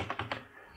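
Several quick keystrokes on a computer keyboard as a file name is typed, soft and close, evenly spaced taps with no talking.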